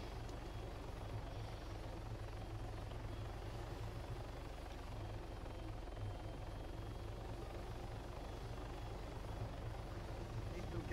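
A Hummingbird helicopter in Arma 3 flies with a steady, droning rotor and engine hum that holds even and unbroken throughout, fairly quiet and continuous.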